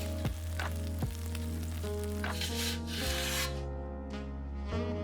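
Pizza cooking in a hot Ooni pizza oven: a steady, close roaring hiss of the flame with a constant hum and a few soft scraping knocks, loud throughout.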